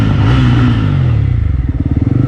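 A Jawa 42 BS6 motorcycle with its dB killer removed revs loudly up close, a brief deep roar that falls back into a rapid, throbbing idle putter.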